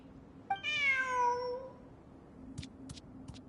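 A cat in the game Genshin Impact gives one clear, drawn-out meow that falls in pitch, followed by a few short clicks or footsteps against a quiet background hum.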